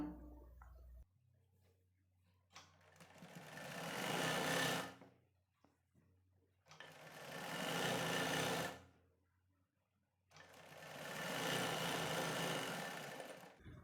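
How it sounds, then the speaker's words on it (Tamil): A sewing machine hems a folded blouse sleeve in three long, steady runs of close, loud stitching, with near-silent pauses between them. "இன்னொரு கையும் மடித்து தைக்கலாம்"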